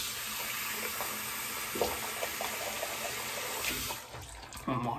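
A tap runs steadily into a sink on a warm day in Arizona, making a continuous close splashing hiss that dips briefly near the end.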